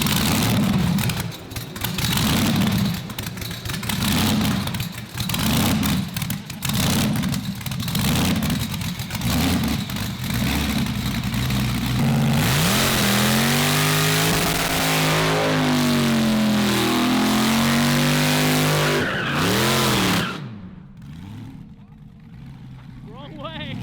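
A high-performance car engine revs hard while doing donuts, the pulsing roar rising and falling in steady waves before a long wailing rev, then cutting off sharply; loud and close, with voices audible underneath.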